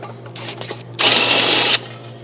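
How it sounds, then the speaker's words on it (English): A short burst of drilling with a power drill, loud and close, lasting under a second, after some light clicks and handling noise over a low background hum, while working on a budget tire changer. "So I'm going to come in and drill a little."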